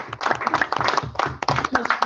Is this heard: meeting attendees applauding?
yes